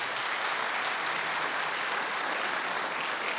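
Dense, steady applause fills a live show audience at Seattle's Town Hall as people who say "pop" clap together, a continuous wash of hands throughout.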